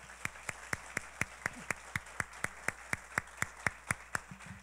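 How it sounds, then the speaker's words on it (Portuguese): A church congregation in Brazil applauds visiting guests, a steady rhythmic clapping of many hands in unison, about four claps per second, fairly faint in the room. "Aplauda esses irmãos."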